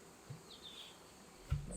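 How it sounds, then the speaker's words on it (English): Honey bees around a hive on a farm buzz faintly, with a couple of brief, slightly louder passes close by against a quiet background. "The bees will clean that all out"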